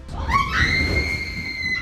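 A woman lets out a high, sustained scream as a rain-loosened tree crashes into a house, her cry rising then holding over a low rumbling background.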